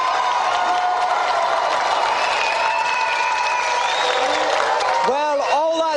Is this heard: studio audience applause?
yes